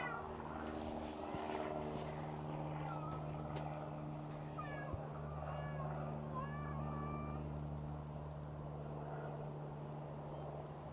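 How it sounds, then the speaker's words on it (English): Faint yowling cats squaring up to fight somewhere outdoors in a garden, drawn-out wavering cries in the middle stretch over a steady low engine-like drone. "we've got some cats that are wanting to fight"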